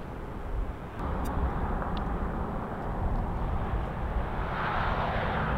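An Allegiant airliner taxies into position on runway 24 left at LAX, its engines giving a steady, distant broadband rumble that swells slightly toward the end, with no talking.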